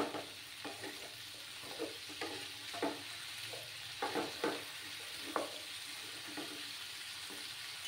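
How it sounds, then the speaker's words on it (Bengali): Mixed vegetables frying in a pan over a gas flame, a steady, fairly faint sizzle broken by repeated scraping stirs of a spatula. "সবজিগুলোকে একটু ভেজে নিতে হবে।"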